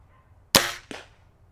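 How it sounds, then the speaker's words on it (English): A single shot from a Walther LGV Competition Ultra air rifle fired at cans 50 yards away: a sharp close crack followed a moment later by a fainter second snap, with near silence before and after. "we're just going to leave it set up like it is and pop these 5 cans"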